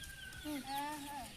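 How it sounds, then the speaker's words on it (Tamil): Hybrid chicken chicks make faint, soft peeping clucks in a few brief rising and falling calls, close by in a quiet yard. "இது இந்த குஞ்சு ஹைப்ரிட் குஞ்சு"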